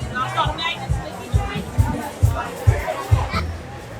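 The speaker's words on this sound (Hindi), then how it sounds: "बहुत भीड़ हो रही है, बहुत भीड़ हो रही है। देखा है कितनी भीड़ है।" A dense crowd of tourists on a busy Bahamas beach, a steady babble of overlapping voices close by, with a speaker talking over it.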